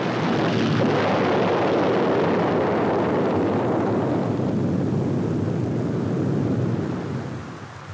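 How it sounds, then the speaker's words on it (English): American attack planes in flight during a wartime sortie against Japan, a dense, roaring engine drone that holds steady and loud for several seconds, then fades slightly at the end, with no voices. "The American attack planes are unopposed."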